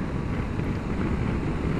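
Steady wind roar buffets the microphone while riding a 2021 Suzuki V-Strom 1050 XT motorcycle, a dense continuous rush with no talk.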